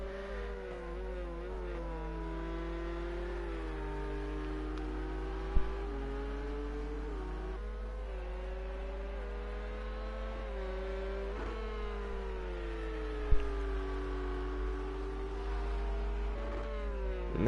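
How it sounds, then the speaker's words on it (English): LMP2 prototype race car in Project Cars at Watkins Glen's GP circuit, a steady loud engine drone with gear-shift pitch steps and a rising, falling pass, no voices. "Now the next LMP2 will come through, and that looks like a Team Dullsby machine."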